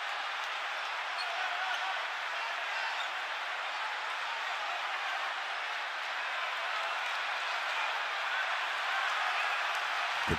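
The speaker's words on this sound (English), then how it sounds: "The crowd is nervous." Arena crowd at an international basketball game, a steady broadband roar of murmuring spectators holding for the whole stretch during a tense late free throw, with no clear cheers or bounces standing out.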